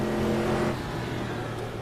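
Stadium Super Truck engine in the Automobilista racing game at Adelaide, a loud sustained roar with a steady harmonic drone, slightly louder at first then settling, alone without talk.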